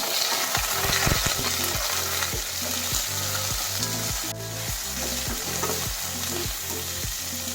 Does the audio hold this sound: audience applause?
no